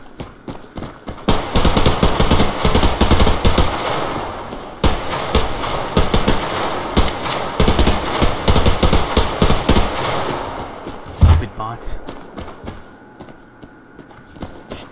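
Automatic gunfire in the shooter game Survarium, long loud rattling bursts of rapid shots at close range, broken by brief pauses and trailing off into quieter scattered sounds near the end.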